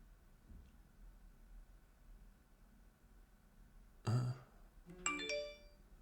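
A phone ringing in a quiet room, two short ringtone chimes near the end, clear against faint background hiss.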